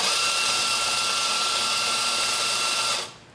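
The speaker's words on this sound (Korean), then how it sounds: "누오바 시모넬리 그라인더 한번 사용해서 추출을 해보도록 하겠습니다" A Nuova Simonelli coffee grinder grinds espresso beans with a steady, loud, high whirring motor for about three seconds, then cuts off abruptly near the end, with no voices present.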